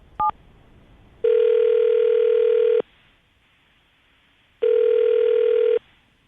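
Telephone call being placed for a radio morning show: a quick dial blip, then two long electronic ringback tones separated by a silent pause, clear and close with no talking.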